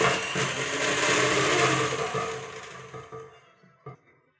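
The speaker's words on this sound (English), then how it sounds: "now I'm gonna turn on my hand mixer. It's gonna be super loud" An electric hand mixer whips a peony body scrub in a bowl with a loud, steady whirring drone. It slowly fades and stops, and a few clinks and knocks follow.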